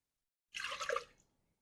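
Water poured into a cooking pot for elderberry syrup, a brief splashing pour of about half a second that starts abruptly and tails off quickly, close and fairly quiet with no talk.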